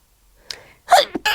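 A person sneezes during a podcast conversation: a faint intake of breath, then a sharp, close burst followed by a second quick exhale, with no talk over it.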